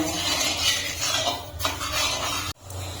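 Sugar and water syrup heated in a pan for pitha, with a steady sizzling bubble and a few scraping stirs of a utensil against the metal.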